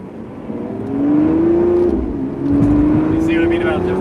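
A 2020 Lamborghini Aventador SVJ Roadster engine revs up loudly from inside the car, with a rising engine pitch, a brief dip at a gear shift, then another climb. Someone talks over the engine throughout.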